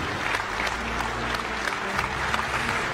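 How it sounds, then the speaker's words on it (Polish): Loud, sustained audience applause fills a large arena at a Law and Justice party political convention in Warsaw, dense clapping with a low crowd rumble underneath. "Wicepremier Jarosław Gowin, ogromne brawa."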